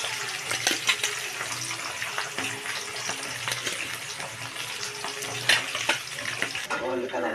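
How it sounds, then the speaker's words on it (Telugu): Mutton pieces fry in a pan with a steady, busy sizzle and crackle, punctuated by louder spits and stirring noises, fairly close. "నేనైతే ఇక ముక్కలు వేయించుతున్నా."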